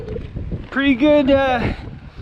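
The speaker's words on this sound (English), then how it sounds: "It's pretty windy up here." Low, blustery wind rumbles against the microphone throughout, with someone speaking briefly over it in the middle.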